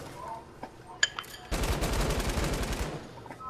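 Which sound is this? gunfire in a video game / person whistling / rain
gunfire in a video game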